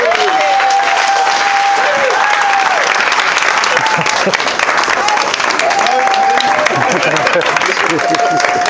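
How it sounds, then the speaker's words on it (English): Sustained audience applause at a presentation event fills the room, steady and loud throughout, with a voice speaking faintly beneath the clapping. "Can we have another round of applause?"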